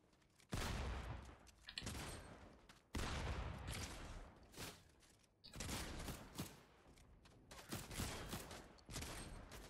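Rapid gunfire in Fortnite, several long bursts of shooting broken by brief pauses, fairly faint and steady.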